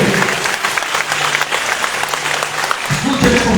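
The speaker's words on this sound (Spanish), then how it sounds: "Aplaudan a Jesús fuerte" A church congregation claps loudly for Jesus during an evangelist's sermon, steady dense applause with a preacher's voice briefly over it.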